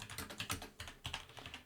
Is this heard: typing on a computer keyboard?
yes